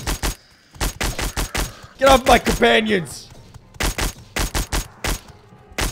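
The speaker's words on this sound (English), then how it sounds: "The ghosts are susceptible to gunfire." Rapid bursts of gunfire from a modded Morrowind game, fired at ghosts near an ancestral tomb, come as loud clustered volleys of sharp shots with a short stretch of speech between them.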